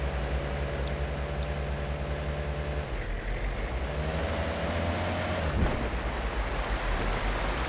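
A stream in the hunting game Way of the Hunter gives a continuous, loud rushing of flowing water, with a low engine drone underneath for the first few seconds.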